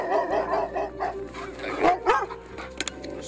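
Dogs barking, several yips and bow-wows in quick succession, close and fairly loud, mixed with whimpering over a low background hum.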